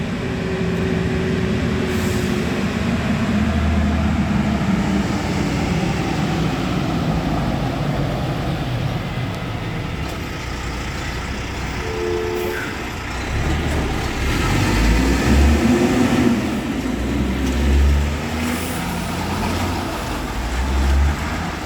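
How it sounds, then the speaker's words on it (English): Heavy cattle truck driving past on a road in a rural town, a loud low engine rumble and tyre roar that holds steady, fades briefly, then surges again as it passes close by. "that's a cattle truck because I live in a rural town, and that truck is quite possibly on the way out to a farm"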